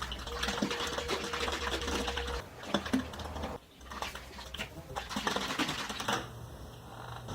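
A bottle of car polish is shaken up close by, a quick rattling patter that comes in bursts with brief pauses between them.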